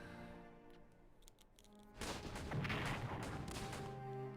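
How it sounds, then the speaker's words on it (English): Artillery shelling in the World War 1 strategy game Strategic Command, a faint rumbling barrage that swells after a quiet start, with dull thuds and crashes over a soft music bed. "I'm just kind of sitting here listening to the artillery animation."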